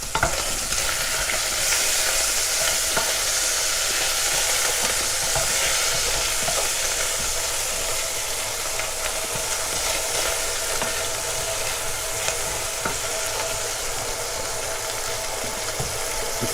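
Pap cooks in a pot on a home stove, giving a steady, dense sizzling and bubbling hiss that stays loud and unbroken throughout. Faint scraping stir sounds come through under the hiss, and nobody speaks.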